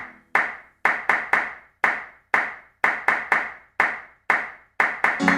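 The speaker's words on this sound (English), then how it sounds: "we're gonna clap 5 times, take out the letter M, and only clapping" Hands clap in a sing-along Purim song, a dozen or so sharp, close, loud claps in an uneven rhythmic pattern, some in quick pairs, with no talking over them.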